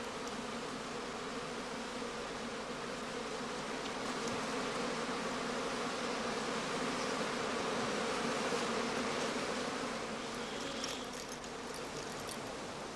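Honey bees swarm around a skep hive stand among blooming heather, a steady dense buzzing that holds evenly close by throughout with no voices.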